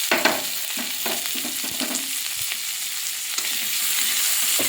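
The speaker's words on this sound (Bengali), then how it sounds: "পেঁয়াজটা ভাজা ভাজা করে নেব।" Onions fry in hot oil with dried red chillies and five-spice for a lentil dal, a loud, dense crackling sizzle up close with a few stirring scrapes early on, no voices.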